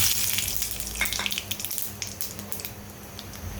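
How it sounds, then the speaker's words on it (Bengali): Whole cumin seeds frying in hot oil with bay leaf in a pan for a Bengali potato dish, a steady close sizzle with crackles and pops throughout. "জিরেগুলোকে হালকা একটু ভেজে নিচ্ছি।"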